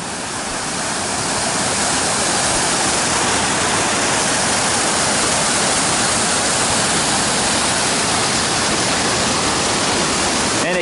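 A mountain river rushes alongside the trail near Muir Pass on the Pacific Crest Trail, a loud, steady, close roar of churning water that holds an even level throughout, with no voices over it.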